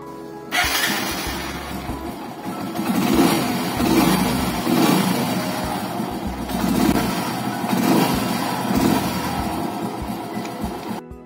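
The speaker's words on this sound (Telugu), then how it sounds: "మీకు ఇంజన్ సౌండ్ కూడా వినిపిస్తానండి నేను" A 2018 Hero Passion Pro motorcycle with about 28,000 km on it runs steadily near the microphone, its engine note rising and falling in several repeated throttle swells over a constant low rumble.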